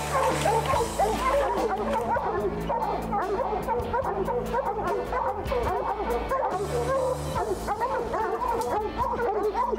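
Hunting dogs bay and yip excitedly at a bear cub up a tree in North Carolina woods, a dense, continuous chorus of overlapping barks and whimpers from several dogs close by.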